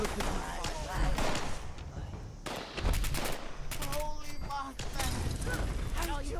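Gunfire in Fallout 76: dense volleys of shots and rapid automatic bursts at mid distance, coming in clusters with brief lulls, with a voice talking over them.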